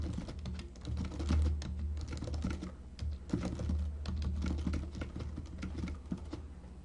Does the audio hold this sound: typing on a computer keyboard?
yes